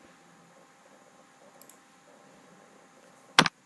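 A single sharp computer mouse click lands near the end of a quiet stretch, preceded by a couple of faint ticks over low room hiss.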